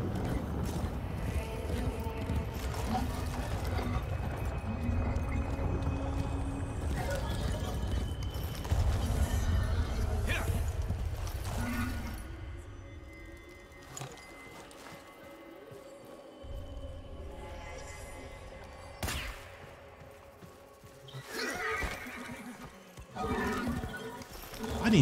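Horse hooves clip-clop steadily with occasional whinnies over a busy Warframe game soundscape of mechanical clanks and rumbling ambience, fading quieter midway.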